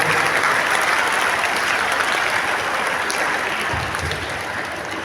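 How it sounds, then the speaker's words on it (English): A school audience at an Independence Day celebration claps for the winning houses, a dense continuous burst of applause lasting throughout, fairly loud and without talk. "So let us once again clap for all the winners of the houses."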